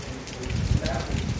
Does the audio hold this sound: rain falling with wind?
yes